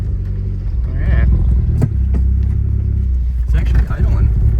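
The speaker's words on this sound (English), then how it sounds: "It's actually idling." A Volkswagen car engine idles roughly at an outdoor VW car meet, a steady low rumble held close throughout while people talk over it.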